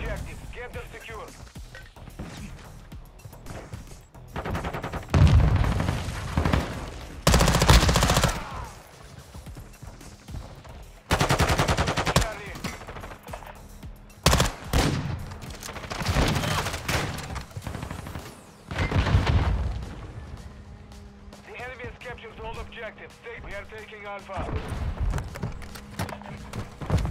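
BAS-P submachine gun fire in Call of Duty Modern Warfare 2, loud rapid bursts in several separate spells between quieter gaps, with game explosions and effects mixed in.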